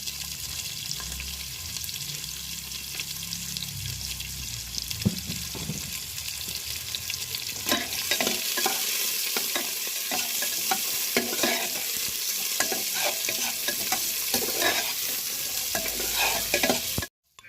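Four medium onions, cut in large chunks, fry in a pan for a jackfruit curry, with a continuous loud sizzle and frequent close scraping stirs of a spoon; the frying grows denser partway through and cuts off abruptly at the end.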